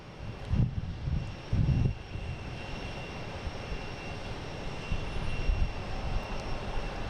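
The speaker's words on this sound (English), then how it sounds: "See that American? There it is. E175 heading to Indianapolis." American Embraer E175 jet airliner bound for Indianapolis at Boston Logan, its engines giving a steady, moderate rumbling roar with a few louder bumps early on and no talk.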